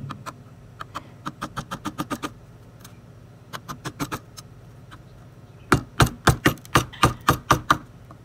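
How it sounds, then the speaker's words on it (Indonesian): A wide gouge chisel is tapped through wood during hand carving, producing sharp knocks in quick bursts of several strikes separated by short pauses, loud and close with no talking. "saya menggunakan pahat kol yang agak lebar lagi. Contohnya seperti ini."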